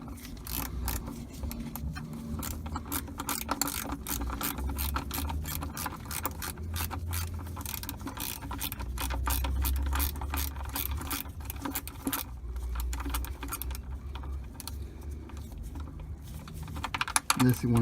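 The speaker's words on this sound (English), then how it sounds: "And now we're gonna tighten up the drain plug real quick." A 13mm ratchet wrench tightens the oil drain plug on a Jeep Patriot with a 2.4L engine, giving rapid continuous pawl clicking up close that runs throughout, with a little low rumble and no clear talk.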